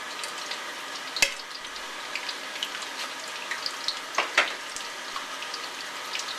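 Oil-fried string beans rinsed under hot running water in a kitchen, a steady soft rush of water and faint sizzle with a couple of sharp clinks and splashes, no talking.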